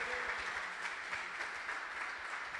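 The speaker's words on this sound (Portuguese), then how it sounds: "Você pode aplaudir aquele que vive?" Church congregation applauding during a Friday worship service, a steady wash of clapping from a crowd that stays fairly even and moderately loud throughout, with no speech over it.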